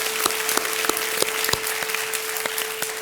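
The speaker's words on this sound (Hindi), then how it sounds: "तालियां बजाएं।" Studio audience applause on the KBC game show, a dense steady clapping from a crowd with a few sharper individual claps standing out, alongside a faint sustained musical tone and no speech.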